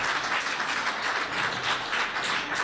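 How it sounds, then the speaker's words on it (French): Applause in a bar as a podcast begins, a small crowd clapping steadily at moderate loudness with a slight room echo, no voices over it. "on peut donner une bonne main d'applaudissement"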